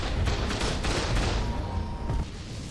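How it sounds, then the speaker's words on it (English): Turrets fire at wyverns in the video game Ark Survival Ascended, a dense rapid fusillade of overlapping gunshots and booms, loud and continuous for a few seconds. "These turrets were just absolutely wiping floor with these wyverns."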